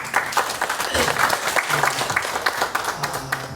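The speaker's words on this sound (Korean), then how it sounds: "박수 한번 하겠습니다" A church congregation applauding during Sunday worship, many hands clapping together in a steady, fairly close burst, with a few voices faintly underneath.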